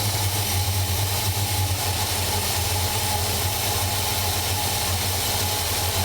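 A carburetor engine idles steadily with its idle speed rising, giving a continuous low mechanical hum and rumble that stays even and fairly loud throughout, with no talking.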